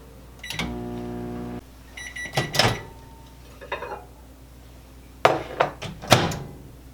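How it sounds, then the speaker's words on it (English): A microwave oven melting butter gives a short tonal beep, followed by a few muffled door clunks and thumps nearby, with no talking. "And we'll melt this in the microwave."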